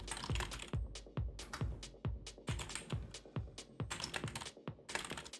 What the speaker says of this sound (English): I'm just typing something quickly